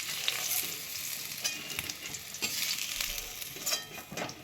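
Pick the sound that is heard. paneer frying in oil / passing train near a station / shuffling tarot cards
paneer frying in oil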